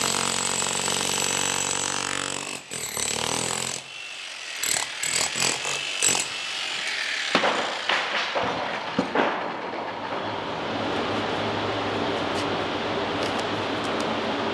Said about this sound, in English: I'm going to start with the chipping hammer and just try to start working my way down.